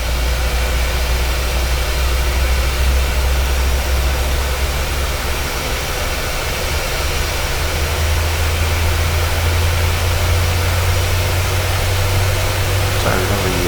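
A PMDG 737-700 jet engine spools up during start in Microsoft Flight Simulator 2020, a loud, steady roar with a deep low drone that rises partway through and keeps building.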